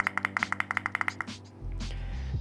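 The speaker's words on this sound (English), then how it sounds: "This button is a little bit more clicky." Buttons on a Fosi Audio MD3 MagSafe DAC are pressed in a quick, even run of about a dozen crisp clicks, close up, followed by a low steady hum with no talking.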